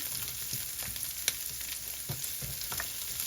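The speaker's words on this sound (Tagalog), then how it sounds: "Igisa muna natin yan" Onion sautéing in a pan for pork adobo gives off a steady, crackling sizzle, punctuated by a few soft clinks and scrapes of a spoon.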